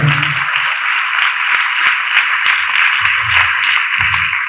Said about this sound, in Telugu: అందరూ చప్పట్లు కొట్టి దేవుడు మహిమపడతాడు గట్టిగా